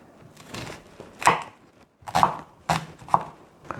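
A knife slices an onion on a cutting board in a few crisp, close chopping strokes, spaced irregularly with short pauses between cuts.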